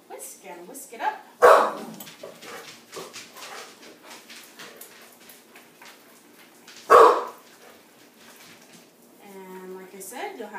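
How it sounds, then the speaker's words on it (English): A couple of loud dog barks ring out from the background, spaced several seconds apart, while a person keeps talking throughout. "Excuse my dogs in the background."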